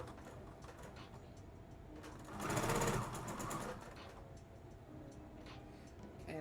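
A sewing machine stitches a child's dress, its needle running in a fast, even mechanical rattle that swells louder in one short burst midway, then settles back to a quieter steady whir, close and clear without speech.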